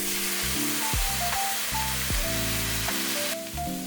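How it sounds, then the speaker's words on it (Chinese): Glutinous rice peppers stir-fry in a wok alongside dried tofu, giving a steady oily sizzle broken by repeated scraping tosses, with faint tonal clinks throughout. "最后再放入糯米椒，快速翻炒之后来调味"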